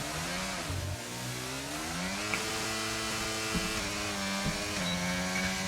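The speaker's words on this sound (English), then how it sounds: "Revs rising" Car engine in a PC racing game on the Abu Dhabi circuit, revs climbing steadily as the car powers out of a chicane, a continuous droning whine that rises in pitch with a few brief dips at gear changes.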